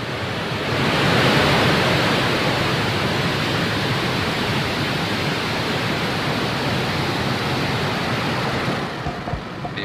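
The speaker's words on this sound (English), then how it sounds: "Five, four, three, two, one, zero. Ignition." Rocket engine liftoff roar in the Spaceflight Simulator game on a Starlink mission, a dense, steady broadband rumble that swells and holds loudly for nearly ten seconds before easing at the end.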